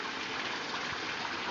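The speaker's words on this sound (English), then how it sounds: "This is the new water feature, complete with sound, because you can't take a picture of running water" Steady rushing gush of running water from a garden pond water feature beside a deck, a continuous close hiss with no voices.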